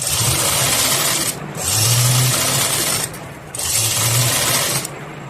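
A sewing machine stitches a blouse in fast, continuous whirring runs, pausing briefly twice between bursts, close and fairly loud with no talk over it.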